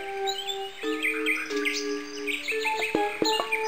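An umbrella bird call from the safari level of the Blue's ABC Time video game: a series of clear, bright chirps and warbling whistles, fairly loud and close, with short tonal notes layered over one another.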